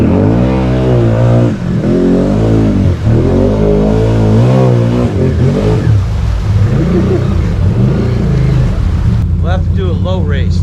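A 2017 Can-Am Outlander 650 XMR quad engine revs loud and close during a drag race, its pitch climbing and falling through several surges before settling, with a second engine droning underneath.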